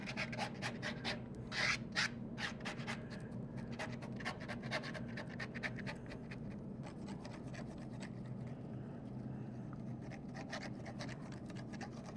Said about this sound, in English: it also makes a difference when you're scraping, whether you go horizontal or on an angle